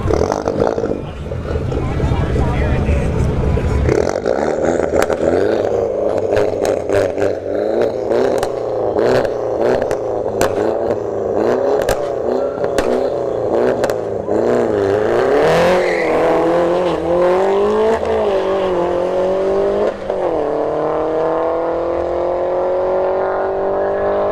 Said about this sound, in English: Cooper in the right lane, 3 Series Beamer in the left lane.